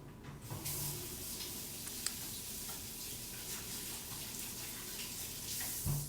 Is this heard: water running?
yes